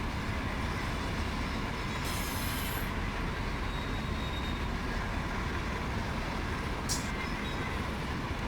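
An Amtrak train in the Run 8 train simulator game on Cajon Pass rolls past with a steady, loud rail rumble and two brief high wheel squeals, with no talking.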